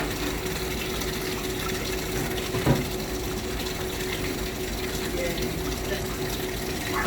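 Water draining from a cleaning machine makes a steady gushing, pump-like rush with a faint hum and a brief knock partway through, while people talk nearby.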